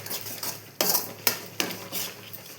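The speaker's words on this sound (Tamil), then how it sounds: "மசாலாவை நல்லா கலக்கி விட்டுக்கோங்க" Masala for brinjal kara kuzhambu stirred in a pan: a few distinct scraping strokes and knocks of a spoon against metal over a low sizzle, close and clear.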